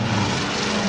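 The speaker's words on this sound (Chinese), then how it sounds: "忽然间听到头壳顶一架飞机飞落来。" A propeller airplane drones steadily overhead as an audiobook sound effect, a continuous, fairly loud engine roar with no voices over it.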